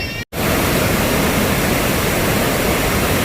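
The Krimml Waterfalls thunder at the top of the falls, a loud, unbroken roar of water close at hand that fills everything after a brief cut at the start.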